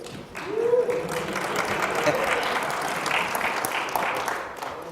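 An audience at an IBM talk breaks into sustained, even applause lasting several seconds, with a voice briefly heard at the start as the clapping builds.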